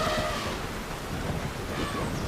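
A storybook forest storm sound effect with strong wind and lightning: a dense, continuous wash of rain with low thunder rumbling beneath it, steady and fairly loud, with no voices.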